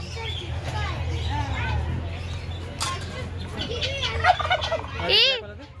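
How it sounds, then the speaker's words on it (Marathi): A turkey gobbles repeatedly, with warbling calls and a final loud burst near the end, over steady low rumbling background noise. "राहुल पण टर्की म्हणतात शिकलेला टर्की गिनिया फाऊल"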